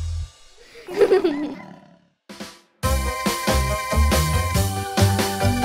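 A growling roar meant as a dinosaur sounds in a French children's song, rising and fading alone for about a second before a bouncy, loud musical backing takes over.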